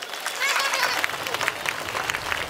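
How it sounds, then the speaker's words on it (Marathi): A crowd claps with both hands raised at an Indian stage event, a busy, continuous patter of many hands with voices mixed in and some shouting over the noise. "ज्यांना कार्यक्रम आवडतो त्यांनी दोन्ही हात वर करून 10 सेकंद टाळ्या वाजवा"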